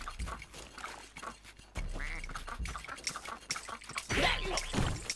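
Rayman turned into a duck in the video game Rayman Legends, giving loud, repeated quacks in quick bursts over busy game music and effects.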